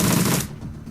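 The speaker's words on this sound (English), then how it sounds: "Is that just an assault rifle?" A short burst of assault rifle fire from the video game Shadowrun Returns Dragonfall, loud and close, cutting off abruptly after about half a second into a fading tail.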